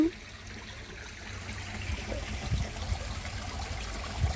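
Water trickles gently from a garden pond filter and skimmer outdoors, a soft continuous dribble heard close and fairly quiet with no voices.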